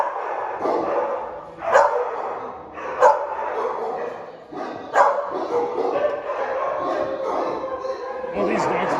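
Several dogs at an animal shelter bark and yip in repeated bursts, with some whimpering between, fairly close and loud throughout; a person talks at times over the barking.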